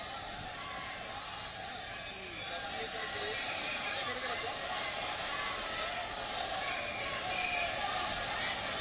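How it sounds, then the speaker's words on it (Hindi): A large crowd at a Maharashtra Maha Vikas Aghadi protest makes a dense, continuous roar of voices and shouting at steady loudness, with a reporter's talk heard over it. "आपको बता दें कि वहाँ भीड़ बहुत ज़्यादा है, शोर बहुत ज़्यादा है"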